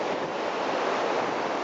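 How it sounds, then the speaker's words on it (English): Sea waves break on the shore, a continuous loud, close roar of washing surf blended with gusting wind. "Just to be beside the sea again."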